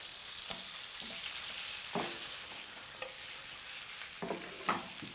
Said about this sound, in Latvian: Un arī liekam uz pannas uzreiz jau klāt, lai jau cepās viņu.